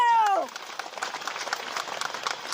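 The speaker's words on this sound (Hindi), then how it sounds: "एक बार इनके लिए ताली।" An audience gathered at a live religious darbar at Bageshwar Dham breaks into applause, a soft, continuous patter of many hands that follows a short vocal sound at the start.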